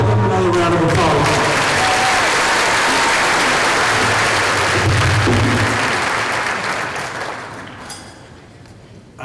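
Loud, sustained applause from an audience at a school district keynote event, with some cheering mixed in, running steadily before fading out toward the end.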